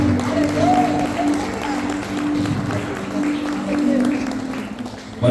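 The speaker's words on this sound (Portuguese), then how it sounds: "glorifica e aplauda o nome." Church congregation clapping together during a worship service, a steady sustained wash of applause under overlapping voices and some speech.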